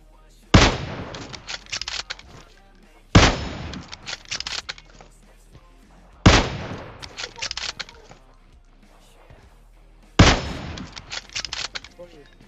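A Kar98 bolt-action rifle fires in PUBG Mobile, four loud, sharp single shots spaced a few seconds apart, each followed by a ringing echo and bolt clatter.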